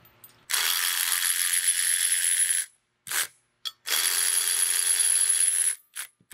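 Bolts being backed out of a trail swing tire mount with a ratchet, two long buzzing stretches of rapid clicking separated by brief metallic clinks and a pause, close and loud.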